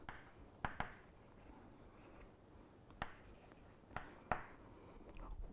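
A board being written on during a mathematics lecture, with faint, sparse strokes and a few sharp taps in an otherwise quiet room.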